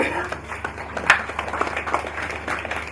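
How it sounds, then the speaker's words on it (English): Audience applause at a hackathon event, a moderate spread of clapping hands filling the room, fairly soft and continuous with a few sharper claps. "So a round of applause, please."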